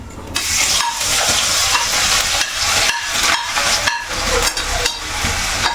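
Ginger sizzles in hot coconut oil in a wok for a pickle, a loud, close, continuous frying hiss broken by brief stirring scrapes, with no voices.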